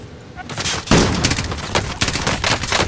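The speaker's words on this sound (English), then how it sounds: "I'm getting shot at from the right." Dense bursts of automatic gunfire from a Call of Duty Warzone match crackle in rapid volleys, loud and near throughout with a sharp surge partway in.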